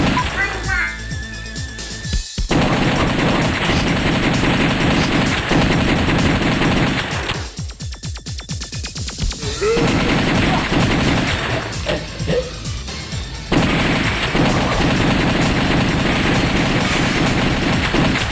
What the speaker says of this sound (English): Never stop shooting and reloading.